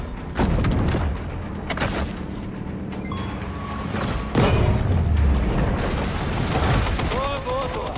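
Explosions and booming gunfire-like blasts burst loudly in the underwater shark video game Maneater, several sharp impacts with rumbling tails, while a voice speaks between them.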